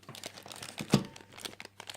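Plastic packaging crinkles and crunches in close, irregular bursts as it is pulled off items from a Noz haul, with one sharper, louder crackle near the middle.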